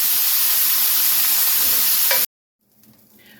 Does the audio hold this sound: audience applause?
no